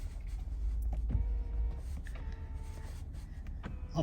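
A Mercedes-Benz GLS (2019-2023) electric steering column adjustment motor whirs in two short, steady runs, each a smooth mechanical hum that starts and stops cleanly inside the cabin, with a brief click between them.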